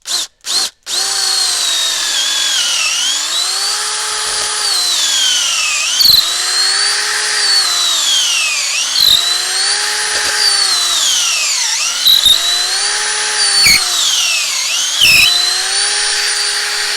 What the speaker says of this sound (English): if you want to drill a bigger hole, you can use one of those, or a core bit